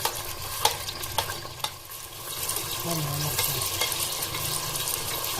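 Cumin seeds frying in hot oil for a kaleji (liver) dish, giving a steady crackling sizzle with a few sharp clinks of stirring near the start, close and alone.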